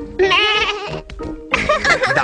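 Suzy Sheep, a cartoon sheep from Peppa Pig, gives two loud, close bleats in a cartoon voice, each a wavering, bleating baa separated by a short gap.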